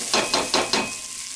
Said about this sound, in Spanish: Ahora que ya cocinamos las hierbas un poco